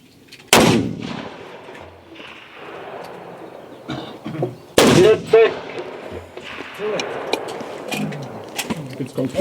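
Two loud, sharp rifle shots from a Swiss K31 carbine at a 300 m outdoor shooting range, a few seconds apart, each followed by echoing range noise and other shooters' distant fire, with people talking in between.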